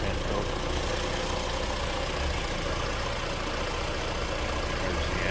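A 1974 Chevrolet Vega Kammback wagon's engine idles steadily, a continuous even hum and rumble heard close up with no pauses and no voices.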